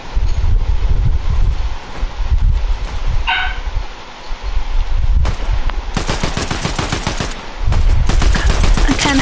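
Rapid automatic gunfire from a Fortnite match while AI enemies are shot, loud and sustained bursts with brief pauses, layered over game ambience.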